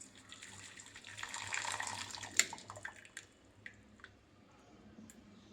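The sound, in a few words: pouring hot water onto Darjeeling tea leaves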